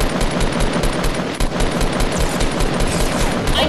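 Dense, continuous automatic fire from a battle-royale video game, very loud and close, with rapid rattling shots packed together throughout and no voices over it.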